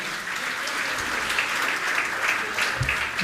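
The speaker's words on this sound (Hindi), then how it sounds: "आप जोरदार ताली बजाकर उनका सम्मान करें" A gathering claps steadily to honour a CEO at a session with Muni Shri Pramansagar Ji Maharaj. The even, sustained applause from many hands holds at one level throughout.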